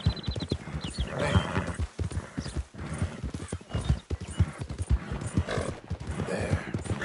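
Horse hooves clip-clop steadily in the Red Dead Redemption II game, with a few whinnies and neighs mixed in, close and fairly loud.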